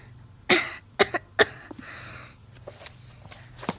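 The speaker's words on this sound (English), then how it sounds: "The girl's coughing up a storm." A girl coughs in several sharp bursts in the video game Life is Strange 2, a few close together, then quieter coughs and throat noises follow with pauses between.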